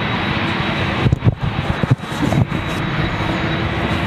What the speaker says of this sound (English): get your real fix of jets and the noise and the feeling here at London Heathrow